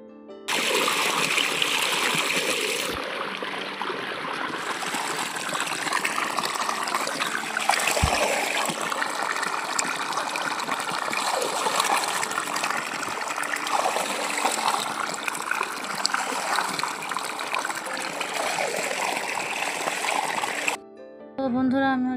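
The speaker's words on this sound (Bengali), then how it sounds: "আমটা ভালো করে ধুয়ে কেটে খেয়ে নিছি।" Tap water runs in a steady stream while a mango is washed, a continuous splashing trickle near the microphone, briefly changing in tone partway through and cutting off near the end.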